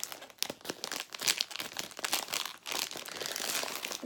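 Sturdy plastic STU48 lucky bag being torn and wrenched open by hand, with crinkling and crunching bursts of plastic up close in an irregular run of rips, no talking.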